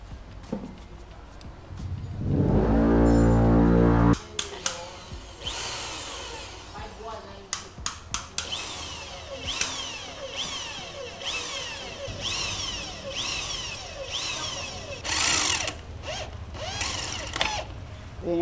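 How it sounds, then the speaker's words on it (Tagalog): A power drill bores out a stripped screw on a scooter CVT cover: a loud grinding burst, then repeated whirring spin-ups with clicking ratchet-like ticks, close by. "barena."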